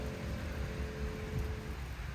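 Rain falling on a garden of young seedlings on a windy day, a soft, even patter of drops over a low steady hiss, faint and continuous with no voices.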